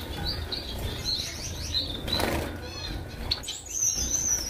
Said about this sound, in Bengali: এখানে অনেকগুলো বেঙ্গলি রাখা আছে, ফন বেঙ্গলি আছে, অর্ডিনারি বেঙ্গলি আছে, আর সাথে দুটো আউলও আছে এর সাথে,